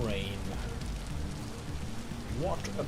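Rainfall in a survival video game, a continuous hiss of drops blended with background game music and a few chirpy effects, with no one talking.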